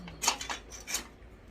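A metal kitchen utensil lifted and clattering against dishes or other cutlery during home cooking, giving two or three short bright clinks close by, with no talk.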